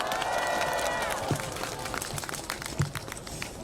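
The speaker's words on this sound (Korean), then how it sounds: "큰 박수 부탁드립니다." Applause and some cheering from a crowd at a church coalition's protest rally, a steady wash of clapping that fades slightly over a few seconds.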